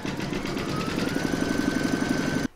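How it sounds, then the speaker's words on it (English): An in-the-hoop embroidery machine stitches a fabric pencil case with a steady, rapid mechanical whirr and a fast regular needle rhythm, running close and loud for over two seconds before stopping abruptly. "you're now going to pop that into your machine and stitch round number six to secure it"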